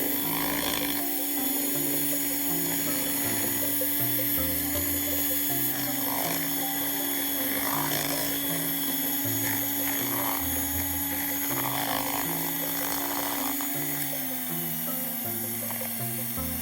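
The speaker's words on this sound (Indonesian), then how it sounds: "Kemudian mixer dengan kecepatan tinggi." An electric mixer whirring steadily at high speed while beating butter with sweetened condensed milk into a cake batter, a continuous buzzing drone with a faint shift in pitch near the end.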